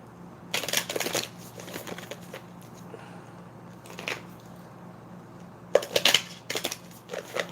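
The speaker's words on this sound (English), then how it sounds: "Let's get 2 more shuffles, and then we're going to cut it 3 times." A deck of oracle cards being shuffled and cut, several short crisp riffling bursts separated by pauses, close and fairly loud.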